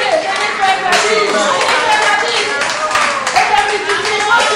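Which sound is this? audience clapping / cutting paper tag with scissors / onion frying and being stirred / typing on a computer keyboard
audience clapping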